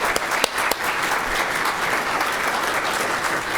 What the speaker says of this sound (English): How about a round of applause for our audience here?